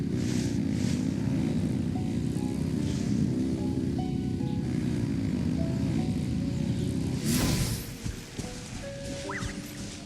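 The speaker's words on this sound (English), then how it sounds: "Rev the engines!" Engines rev in the video game Genshin Impact as a steady, loud, low droning roar that holds for several seconds, then shifts and thins out near the end.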